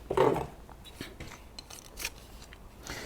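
A knife slices through green-backed riser cladding along a straight edge, giving short close rasping and scraping strokes, with one louder cut at the start and quieter scratches after.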